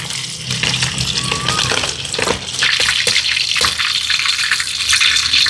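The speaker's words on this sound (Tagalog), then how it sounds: "Ito na po ang mas papalabas ng lutong niya, pangalawang prito" Chopped kanayon pork sizzles during its second deep frying in hot oil, giving a loud, steady, hissing crackle that grows denser partway through, with no talk.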